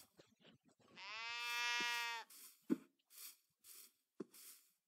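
A sheep in a video game gives one clear, drawn-out bleat lasting about a second, followed by several short game sound effects and small clicks.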